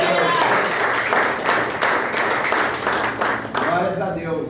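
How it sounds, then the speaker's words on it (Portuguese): A congregation at a church worship service applauds in praise, with steady, continuous clapping throughout and voices speaking over it. "as palmas louvam ao Senhor"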